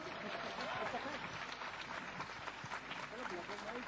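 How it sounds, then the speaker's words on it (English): An audience at a literature festival session gives a round of applause for the panelists, a dense, steady wash of many hands clapping that carries on without a break. "let's show this recognition with a starting warm round of applause for our panelists"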